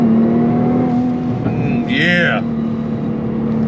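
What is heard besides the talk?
Nissan GT-R R35 launch control acceleration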